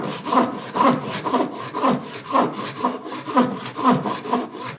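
A hand saw rips lengthwise through wood for a square-leg Craftsman table, with steady back-and-forth strokes at about two per second, close and clear, with no talking.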